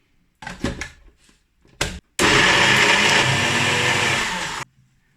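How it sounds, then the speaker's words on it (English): A countertop blender whirs a vegan cheese mixture with liquid smoke, made without okara, for about two and a half seconds of steady loud grinding after a few short clunks and bursts, then stops. "And I'm gonna blend without Okara first again."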